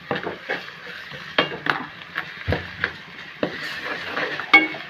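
Ginger paste frying with softened onions in a pan for chicken gravy curry, with repeated scraping and stirring knocks of a spoon against the pan over a continuous sizzle.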